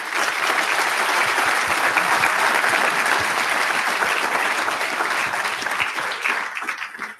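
Sustained applause from a large audience at a Doctor of Physical Therapy graduation ceremony, loud and even for several seconds before starting to thin out at the end.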